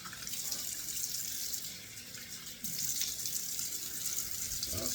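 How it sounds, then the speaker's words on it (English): Cold water runs from a bathroom tap into a sink, a steady close hiss and splash that dips briefly midway before resuming at full strength, with no talking. "Turn on the cold water."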